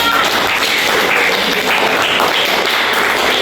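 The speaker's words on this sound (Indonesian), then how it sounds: "Kita beri tepuk tangan" A classroom group of students applauds continuously, a dense and fairly loud clatter of many hands that holds steady without pause.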